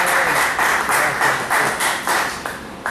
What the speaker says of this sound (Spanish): Demos un aplauso fuerte a Jesús.